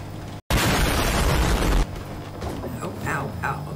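Gunfire bursts in the Fortnite video game, loud and dense at first with a brief cut, then fading into quieter, scattered shots and game sounds under faint background chatter.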